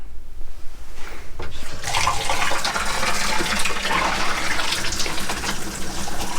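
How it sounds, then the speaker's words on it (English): After a brief quieter moment, water gushes loudly and steadily into a trailer's black holding tank, a continuous rushing flow close by. "I want to give my black tank a good flush out."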